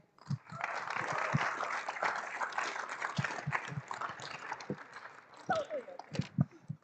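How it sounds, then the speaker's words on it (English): Audience applause at the Wasatch C.A.P.S. Invest Nest 2023 pitch event, a broad crackle of many hands clapping for several seconds with a few sharper individual claps, while voices talk through it. "I want to just say big round of applause for all of our judges."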